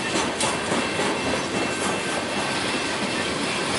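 A BNSF coal train hauled by Dash 9 and ES44AC locomotives rolls past close by, a loud, steady rumble and rush of wagons with faint clickety-clack from the wheels throughout.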